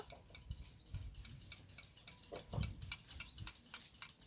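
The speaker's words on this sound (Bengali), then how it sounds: "এখন ডিমটাকে আমি ভালো করে গুলিয়ে নেব" An egg being beaten in a bowl while frying rui fish, a quick run of light clinking taps with soft scraping, close and fairly faint, no voices.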